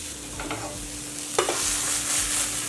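Sprouted moth beans dry-roasting in a pan, with a couple of brief scraping stirs and a soft steady crackle against a low background hum.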